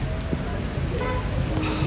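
Heavy rain falling around a hotel shelter near the Prophet's Mosque in Madina, a steady loud hiss of downpour with scattered drip taps throughout.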